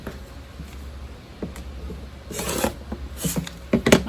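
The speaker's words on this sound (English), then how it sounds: "And then cut corner to corner again." Scissors or a cutter slices through fabric squares corner to corner for quilting, giving soft rasping, scraping strokes that grow into sharper crisp snips and rustles toward the end, close and unaccompanied by talk.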